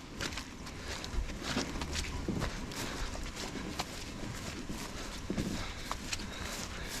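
A herd of cattle walks through on a farm where a hotwire fence is being set up, giving continuous heavy hoof thuds and scuffs at moderate distance over steady outdoor noise.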